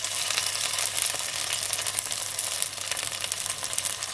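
Loud, continuous crackling sizzle of hot oil frying fish, dense and close, with no voices.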